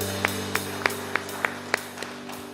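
Congregation clapping during a church service: sharp claps land in a steady, even rhythm over sustained organ-like tones, fairly close and moderately loud.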